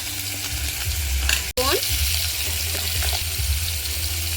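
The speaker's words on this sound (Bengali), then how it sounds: "এবার আমি দিয়ে দিচ্ছি জিরে বাটা আর দেব আদা বাটা আর দেব লঙ্কা বাটা" Cumin, ginger and chili paste frying in a pan, a steady close sizzle broken once by a sharp clatter as the paste goes in, followed by softer stirring scrapes.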